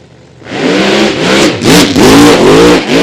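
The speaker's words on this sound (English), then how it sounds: "he pedals it off the throttle after he gets to the half-track point" A funny car at a drag strip test session revs hard with a throaty, loud engine roar, easing off the throttle partway through the run in rising and falling surges, with no talk over it.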